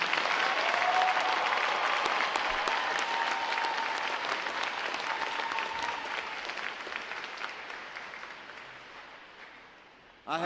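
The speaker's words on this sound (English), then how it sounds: "Let's give another round of applause for these awesome, amazing award winners." An audience at a U.S. Navy boot camp graduation gives a loud, sustained round of applause for award winners, dense clapping that slowly fades over about ten seconds.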